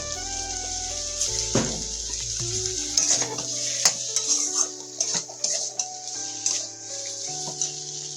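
Mustard paste with Kashmiri chili powder is stirred in a frying pan for a hilsa and brinjal dish, with irregular scrapes and clinks against the pan over a faint sizzle and background music.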